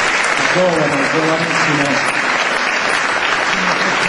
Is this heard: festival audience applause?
yes